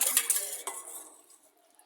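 A spoon clinks and scrapes against a bowl while chaat masala is stirred into beaten yogurt for papri dahi bhalla chaat, a few quick close taps that fade out within two seconds, with no talking.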